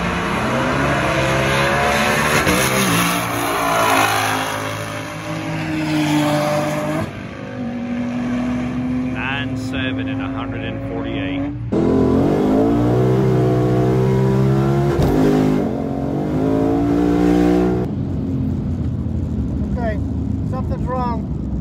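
A 2020 Ford Mustang GT500 Track Pack accelerates hard down a drag strip, its engine roaring loud and close with rising, shifting pitch through the run, and voices talking over it.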